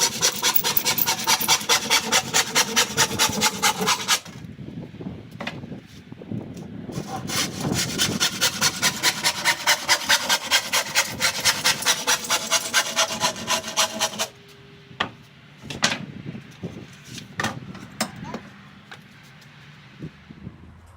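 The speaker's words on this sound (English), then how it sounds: "I don't have a bandsaw, so I'll be using a trusty wood saw" A hand wood saw cuts through wood in fast, steady rhythmic strokes, loud and close, with a short pause around four seconds, then a long run of strokes that stops abruptly, followed by a few scattered knocks and scrapes.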